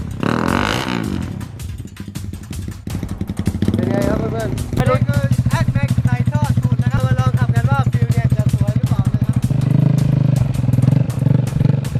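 A Honda Sonic bored to 79mm, fitted with an X-max exhaust and ridden slowly, giving a loud, throbbing, uneven engine putter that rises and swells, with a voice talking over the start.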